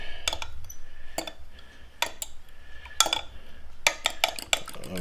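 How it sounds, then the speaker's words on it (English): Eggs, milk and lemon juice are beaten together in a bowl for blueberry lemon scones, with quick, irregular clinks and scrapes of the utensil against the bowl coming in short bursts. "beat the eggs and the milk, the juice together."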